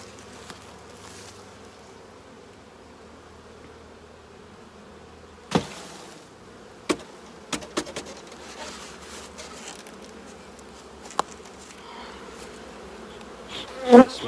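A honey bee swarm settled on the front of a healthy hive gives a steady, low, close buzzing hum, with a few sharp knocks and taps over it, and no talk.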